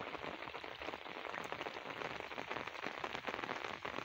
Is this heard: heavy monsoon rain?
yes